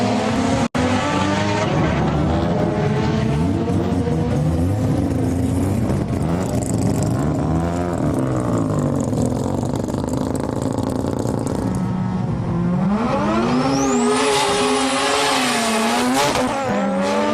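A Series 5 Mazda RX-7 races hard, its rotary engine revving loud and close with rising and falling pitch, then tires squeal sharply through a skid near the end.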